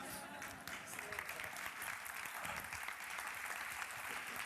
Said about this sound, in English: it's very rare for an investment banker to be clapped